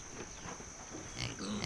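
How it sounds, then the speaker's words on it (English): Pigs on a farm grunt and oink in short, soft bursts, with a brief louder snorting cluster near the end against steady background noise. "Aw, look at the cerdos, the pigs."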